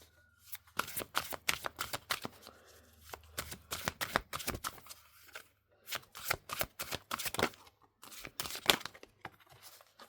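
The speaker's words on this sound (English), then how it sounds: "So let's shuffle these up." Rapid, rhythmic riffling of a tarot card deck being shuffled repeatedly, crisp papery flutters in quick bursts with brief pauses between.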